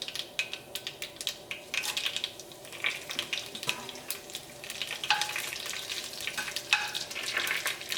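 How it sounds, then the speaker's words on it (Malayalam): Dried red chillies crackle and sizzle in hot coconut oil, with dense irregular popping and spitting close by, steady throughout and with no voices. "ഈ ഉണക്കമുളക് ഇതിനകത്ത് കിടന്നിട്ടൊന്ന് മൊരിയണം"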